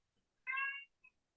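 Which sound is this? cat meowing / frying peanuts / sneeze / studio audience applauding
cat meowing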